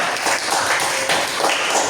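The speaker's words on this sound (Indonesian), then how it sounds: "Tepuk tangan dulu untuk semua" Students in a classroom clapping together, a dense, steady patter of many hands at fairly close range, sustained evenly for the whole stretch with no clear talk.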